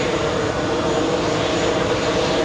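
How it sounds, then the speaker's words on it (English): An aircraft arriving on runway 4 at JFK airport gives a steady, loud engine roar throughout, an even rumbling drone with no speech. "And we have more arrivals on both runways, on both runway 4 right and 4 left."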